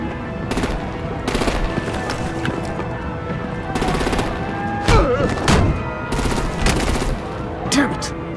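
Bursts of automatic gunfire and artillery-style blasts in a Batman: The Enemy Within video game action scene, loud and repeated, with a few heavier booms and a dense battle clamor between them.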